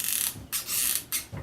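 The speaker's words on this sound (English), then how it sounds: "let me put another glue stick in here" A hot glue gun is loaded with a fresh glue stick, giving three close scraping, hissing bursts of plastic sliding and rubbing, separated by short pauses, with no talking.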